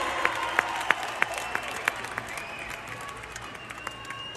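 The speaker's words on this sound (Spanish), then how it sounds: "¡Más fuerte el aplauso!" Live concert crowd applauding and cheering during a cumbia show, a steady roar of clapping with a series of sharp, regular beats punching through the crowd noise.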